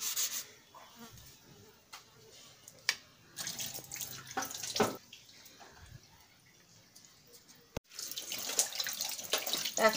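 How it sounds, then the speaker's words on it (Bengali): Cabbage being washed under a running kitchen tap, with steady water splashing and rubbing in a sink, close and moderately loud, with brief pauses and a sharp clink near the end. "এখন আমি বাঁধাকপি রান্না করব বলে বাঁধাকপিটাকে আমি ধুয়ে নিচ্ছি ভালো করে।"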